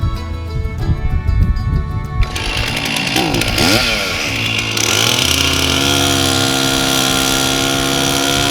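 A chainsaw cuts red cedar timber with a loud, steady engine roar that shifts pitch as the chain bites into the log, running continuously and close throughout.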